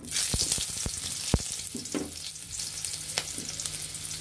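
Chopped onions hit hot white oil in a wok with a loud, steady sizzle and spit. A few sharp clinks and stirring scrapes sound close by, and no one speaks.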